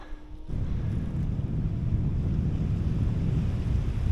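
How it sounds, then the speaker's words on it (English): The swollen, fast-flowing River Ebro in Spain makes a steady, loud rushing roar that starts abruptly and then holds at an even level, with some wind buffeting mixed in. "It's the mighty River Ebro. It's looking pretty angry as well."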